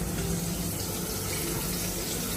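Water pours in a steady, continuous rush at close range, filling the whole moment with an even splashing hiss and no voices.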